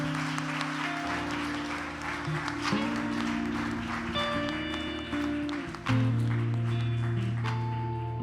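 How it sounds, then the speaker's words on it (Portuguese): Church congregation applauding at a Sunday service as sustained organ or keyboard chords and music swell underneath, the clapping a steady texture under the instruments with some voices present. "Todo mundo, uma salva de palmas para Jesus"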